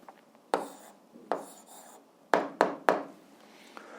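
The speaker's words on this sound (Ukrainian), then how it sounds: "записуємо відповідь, пишемо відповідь" Chalk or pen strokes writing out an algebra answer, a handful of sharp, close taps and scrapes in uneven bursts with quiet gaps between them.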